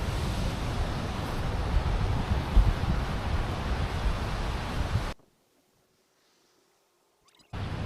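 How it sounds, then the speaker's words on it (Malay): Beach at Pantai Sura in Terengganu, with a steady roar of wind buffeting the microphone over surf for about five seconds. The sound then cuts to near silence before the noise briefly returns at the end. "rehat sekejap dekat tepi pantai ni, aja ambil angin."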